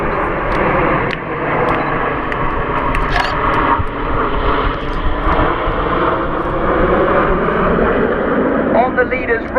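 Red Arrows jet aircraft flying overhead at an RAF Waddington airshow, a steady, continuous broad roar that fills the whole stretch while a commentator talks over it.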